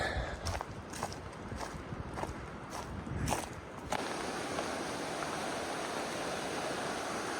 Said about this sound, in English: You can hear the river down in the background.